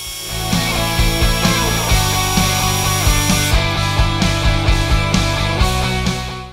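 An Atlas Copco LSB38 beveling tool chamfers an edge to a rounded finish, giving a loud, continuous motor whine broken by regular short ticks as it cuts along the material.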